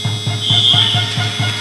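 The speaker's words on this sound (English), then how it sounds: "The final buzzer sounds for this first half" A steady, high electronic buzzer drones throughout, over a low rhythmic thumping of crowd noise, as the first half ends at an Italy–Spain powerchair hockey world championship playoff.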